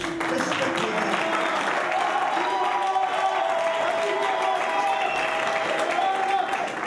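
Crowd at a political rally for the presidential race in DR Congo applauding and cheering in a steady, dense wash of clapping, with a voice speaking over the noise.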